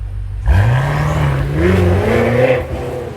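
A BMW X6 M fitted with a full variable exhaust pulls away, its engine note rising sharply from idle into a loud, close, rising roar that climbs through the gears with a brief shift dip before easing off.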